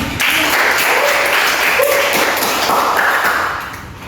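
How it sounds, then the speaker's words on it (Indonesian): Classroom children clap together during a guidance lesson on bullying, a loud, close burst of applause with uneven taps that holds steady and then fades out over the last half second. "Jadi berikan tepuk tangan."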